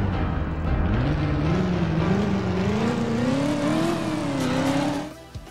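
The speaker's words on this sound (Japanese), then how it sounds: "駐車場チュートリアル、ドライバー潜入カーチェイス大作戦。" A car engine in the parking-lot tutorial chase of the video game Driver revs loudly and steadily, its pitch climbing as it accelerates, with tire noise underneath, then drops off abruptly at the end.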